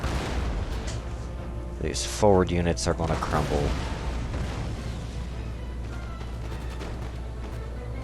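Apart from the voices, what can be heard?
cannon fire in a strategy video game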